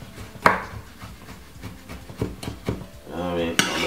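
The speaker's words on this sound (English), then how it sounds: "I'm just gonna just simple chop that," A knife chops garlic cloves on a cutting board, giving a few sharp, separate knocks at an irregular pace, close by, while someone talks in between.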